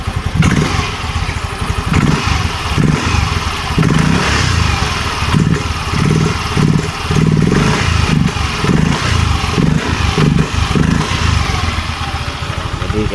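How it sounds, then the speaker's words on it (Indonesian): Yamaha Mio M3 scooter with a Veloscope exhaust being revved up close, loud repeated throttle blips rising and falling over a rough racing-style engine note, no voices over it. "Nih coba digas."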